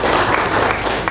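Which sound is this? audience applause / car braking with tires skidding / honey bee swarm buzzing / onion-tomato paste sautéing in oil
audience applause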